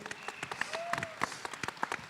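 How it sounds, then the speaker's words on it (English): A small audience at a panel event gives scattered, thin clapping, individual claps audible rather than a full roar, fairly quiet and short. "Can we give Kina a round of applause again?"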